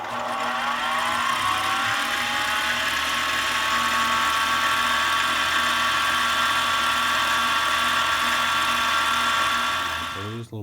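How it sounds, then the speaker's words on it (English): Wood and metal lathe spinning a wooden chopstick at higher speed while it is polished with a rag, a loud, steady whine with a high pitched tone that holds throughout before it winds down near the end. "So on a rag, I'll spin it a little bit faster than I have been, and polish it up."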